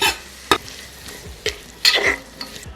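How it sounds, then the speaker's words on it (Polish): Carrots and onion sizzle softly frying in a pot while a utensil scrapes and clanks against the sides every second or so. "marchewka trafiła do środka garnka. Również ją sobie musimy cały czas podsmażać."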